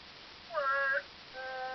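A cartoonish cat meow from the video game Transformice rings out once, short and bright over a faint game background, followed by a steady synthetic tone.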